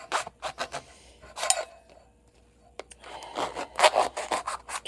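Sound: knife cutting open a passion fruit

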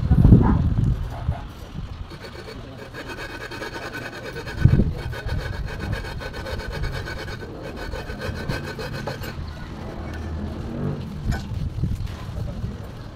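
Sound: sanding a car engine block with sandpaper

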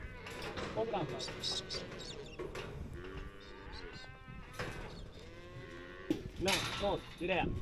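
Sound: cow mooing during cattle roundup

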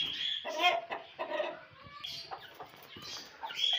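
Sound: rooster and chickens clucking

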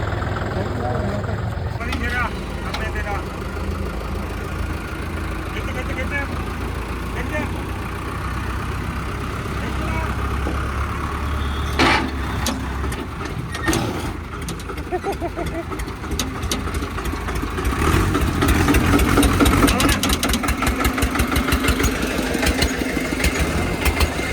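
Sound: tractor engine idling

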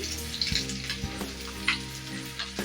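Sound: fish frying in a pan

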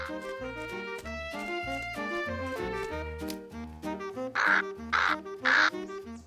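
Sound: crow cawing, cartoon

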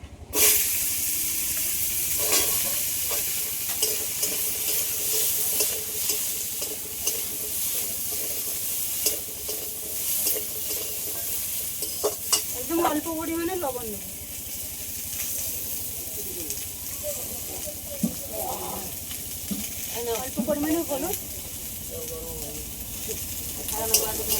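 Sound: frying bitter gourd greens and potatoes in a pan

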